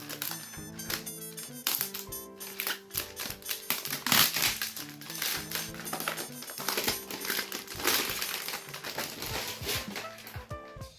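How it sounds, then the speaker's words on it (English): A new Dell XPS 15 9530 laptop is unwrapped from its packaging, giving close crinkling and rustling of plastic and paper with irregular taps and handling knocks throughout. "now time to unwrap this laptop"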